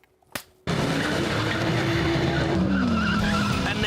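A Peugeot 205 GTI hot hatch launches hard from standstill, a brief thump giving way to a loud, sustained tire squeal with engine roar that holds steady to the end.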